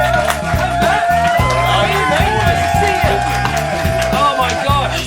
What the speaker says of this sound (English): please give a whoop and a cheer for the amazing Matt Morsia